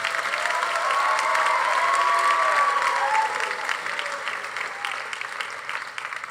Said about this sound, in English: Please give a round of applause for Ryan Keala Ornelas